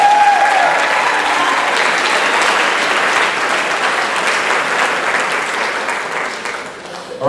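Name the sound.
applause at band banquet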